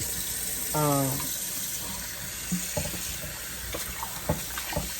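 A kitchen tap runs as oxtails are rinsed in a bowl, giving a faint, steady watery hiss with small splashes; a voice briefly sounds near the start.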